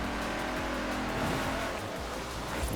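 A Mercedes-Benz AMG Hammer Coupe racing in Forza Horizon 4, its engine roaring loud and unbroken as it revs hard through a downshift and accelerates out again, with some tire noise mixed in and no voices.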